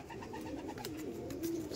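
Pigeons coo in soft, warbling, repeated calls, close but fairly quiet, over a faint background murmur.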